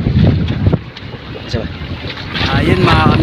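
Strong wind buffets a small fishing boat at sea in rough weather, roaring over the microphone in gusts while the hull slaps through waves, with brief voices in the background.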